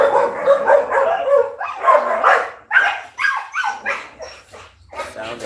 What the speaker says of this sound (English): Sound of singing dogs.